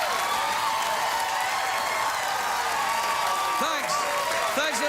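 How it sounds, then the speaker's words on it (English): Studio audience applause on a late-night talk show, a steady dense wash of clapping and crowd noise that holds fairly even and loud throughout, with faint voices showing near the end. "Let your applause die away naturally as if you really meant it and you were happy to see me"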